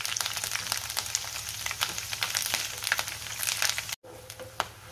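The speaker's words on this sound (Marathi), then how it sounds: "हा साबुदाणा तळताना अंगावर उडतो, त्यामुळे असं झाकण असेल किंवा एखादं ताट घ्यायचं आहे" Sago pearls deep-frying in hot oil give a dense, steady crackling sizzle with sharp spitting pops, broken by a brief silence near the end before the frying resumes, with no talk.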